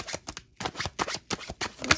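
Tarot cards being shuffled by hand, a quick run of crisp riffling bursts with a brief pause near the start, close and fairly quiet.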